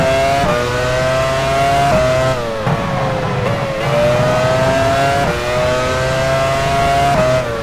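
A Formula One race car in F1 Challenge 99-02 at Sepang, Malaysia, roars loudly at high revs. The engine pitch climbs through repeated gear shifts, with short dips between them, as the car heads into the pit lane.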